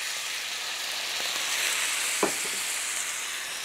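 Juices and sauce sizzle steadily in a hot pan as they reduce over a small sofrito base, a continuous bright hiss holding level throughout with one brief louder tick partway through, no voices.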